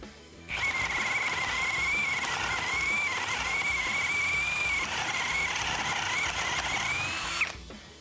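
A Procraft PA21Li cordless drill in second gear boring with a 35 mm bit, a loud steady whining whir held for about seven seconds, pitch wavering slightly under load before it spins down.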